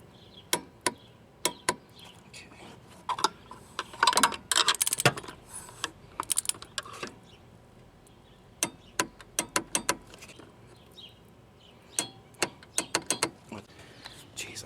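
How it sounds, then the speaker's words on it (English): A torque wrench tightens a water pump pulley, sounding as sharp separate ratcheting clicks in short bursts with pauses between them, close by in a quiet space. "Alright, so now we're going to torque it to 18 foot-pounds"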